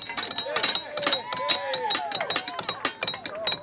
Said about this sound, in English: the sound of the strikes of the hammer against those nails